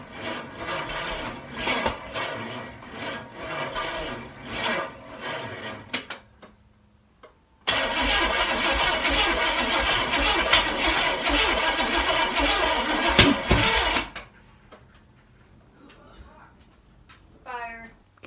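A dually truck engine cranks repeatedly without catching, with several short uneven starter bursts followed by one long grinding crank. A voice speaks near the end.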